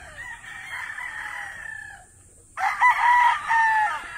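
Gamecock stags crow loudly nearby, one long crow fading out, then after a brief pause a second, louder crow breaks in with clucking.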